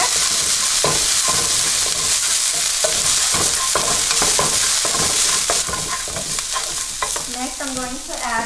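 Basil and parsley frying in a hot pan with clams for linguine, a steady close sizzle broken by repeated scrapes and clinks of stirring throughout.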